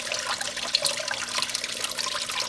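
Water flows steadily down a gold sluice table, washing black sand along with a continuous close trickling and splashing, textured by small bubbling bursts.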